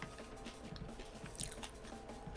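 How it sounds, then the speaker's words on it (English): Crab chips being crunched and chewed close to the mic, with irregular crisp bites and squishy chewing at a modest level and no talking. "crunching of crab chips"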